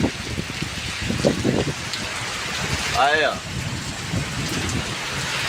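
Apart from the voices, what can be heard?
heavy rain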